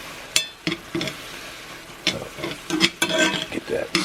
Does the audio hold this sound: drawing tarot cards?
no